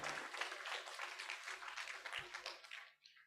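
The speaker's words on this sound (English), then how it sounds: "A round of applause to Peter from South Sudan." An audience at a business leaders' summit claps in a dense, even wash of applause that fades out near the end; a voice speaks faintly beneath it.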